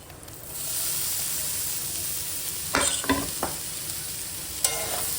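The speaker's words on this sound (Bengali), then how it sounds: "এখন দিয়ে দেব ওই ভেজে রাখা পাতাকপিগুলো।" Fried cabbage is tipped into a pan of sizzling spice masala for a fish-head curry, a steady hot frying hiss broken by a few sharp scraping stirs of a spatula against the pan, with no talking.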